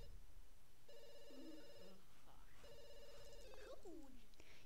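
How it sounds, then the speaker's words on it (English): A telephone rings in The Sims 2, two bursts of electronic ringing at low volume over background game ambience, with a brief chirpy sim voice between them. "Go and answer the phone, please."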